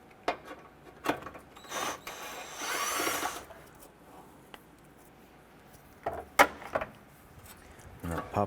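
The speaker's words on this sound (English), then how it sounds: "Using a 10mm socket, we want to go ahead and remove this bolt here" A 10mm socket works loose a bolt holding a bracket and wiring harness on a 2008-2012 Honda Accord, with a short burst of ratcheting, scattered metallic clicks and taps, and low background noise.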